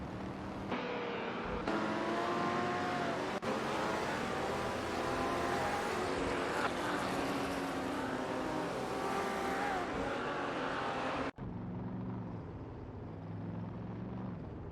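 Stock cars race around Weatherfield Speedway in a racing video game, a dense, continuous roar of several engines droning and shifting pitch together, loud throughout, with one abrupt break near the end.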